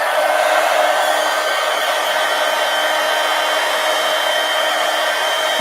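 A hair dryer blows steadily at close range to dry wet paint on a drawing, a loud continuous hiss and whir that holds level throughout with no talk.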